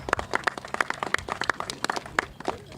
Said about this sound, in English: Let's give him a hand clap of encouragement.